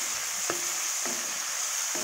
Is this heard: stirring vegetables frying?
yes